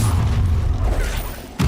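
A Bombarda spell explodes in Hogwarts Legacy combat, a loud, heavy low-end boom and rumble filling the moment, with a fresh thump at the close.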